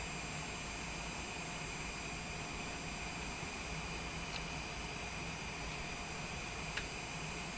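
Steady, droning jet engine thrust from a simulated airliner in Microsoft Flight Simulator 2024, a constant broadband roar with a thin high whine, unchanging throughout with a couple of faint clicks.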